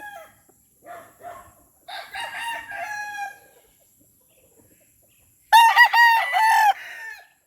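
A blind gamefowl stag rooster at a small poultry yard gives short, scattered calls, then one loud, close crow near the end, with no one talking.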